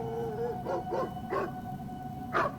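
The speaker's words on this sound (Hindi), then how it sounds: "वो अचानक से भौंकने लगा है" A neighbour's dog barks and howls suddenly at night, a few separate yelping, howling calls with pauses between, moderately near and alone without talk.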